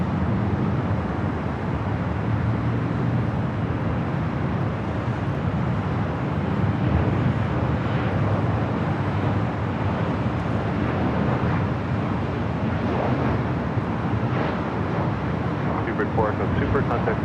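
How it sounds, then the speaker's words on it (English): A British Airways Airbus A380 bound for London Heathrow takes off from Los Angeles airport, a broad, steady jet roar rumbling at a distance amid wind noise. "British Airways 268 taking off to London Heathrow on the A380"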